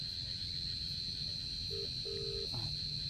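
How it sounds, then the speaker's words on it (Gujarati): A phone on speaker being dialed, giving a few short keypad tones over a steady background hum in a room. "ફોન કરો ફટાફટ સ્પીકર કરજો"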